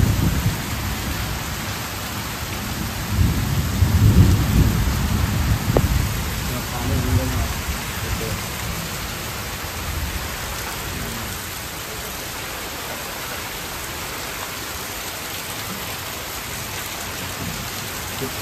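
Heavy monsoon rain pours steadily in the Konkan hills, with low rumbling thunder swelling near the start and a voice speaking briefly over the downpour.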